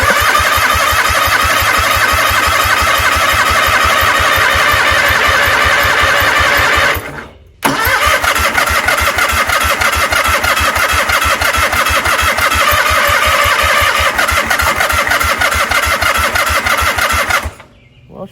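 A 1984 Tuff-Bilt tractor engine cranking and trying to start, a steady loud chugging rhythm close by that cuts out briefly, resumes for another long stretch, then stops.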